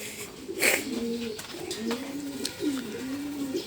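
Racing pigeons returning home to a loft during a 100 km training flight, with several soft, close cooing calls rising and falling over a low outdoor background, plus a brief rustle or flap near the start.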